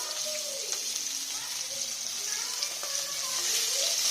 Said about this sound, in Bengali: এবার মাছটা দেখবো কতটা ভাজা হয়েছে।